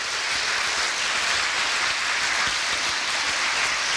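Sustained applause from an audience at a year-end foundation event, honoring volunteers and staff; dense, steady clapping fills the whole stretch without pause.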